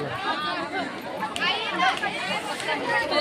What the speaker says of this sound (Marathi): आणि सुट्टे असल्यामुळे गर्दी बघा किती आहे.